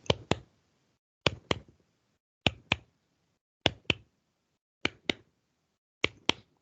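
Hand claps imitating heartbeat sounds in a cardiovascular exam lesson: six evenly spaced pairs of sharp, close claps, each quick double beat followed by a longer pause.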